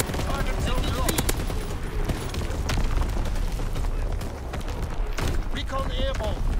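Artillery firing in a video game, sustained heavy bursts of gunfire and booming blasts that fill the whole stretch, dense and loud with no pauses.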